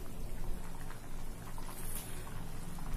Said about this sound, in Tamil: போட்டு நல்லா ஒரு 5 நிமிஷம் கொதிக்கட்டும்.